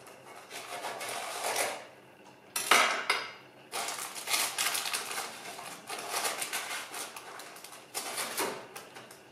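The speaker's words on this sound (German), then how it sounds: "Und jetzt schneide ich das einfach einmal durch." A Parmesan roll is cut through on a plate, giving bursts of crisp crunching and scraping with knife and dish clatter, loud in short runs separated by brief pauses, no talking.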